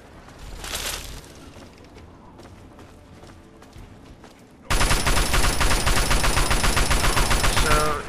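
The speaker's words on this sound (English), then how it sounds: "do you have enough action points to fire this gun back?" Gunfire from heavy weapons in the Fallout 3 video game: a few scattered shots over a low background, then a sudden loud, continuous barrage of rapid automatic fire.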